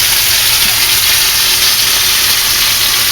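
Steak au poivre sears in a hot pan with a loud, steady, close hiss and sizzle that holds unbroken throughout, and no one speaks.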